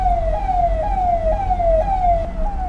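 A police car siren wails at the head of a vehicle convoy on the road from Srinagar to Pahalgam during the Amarnath Yatra, a loud repeating falling tone cycling about every half second over engine noise.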